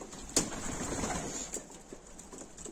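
Domestic pigeons in a breeder's loft, including breeding hens, making soft cooing calls with a sharp flutter or knock near the start, all fairly close in a quiet room.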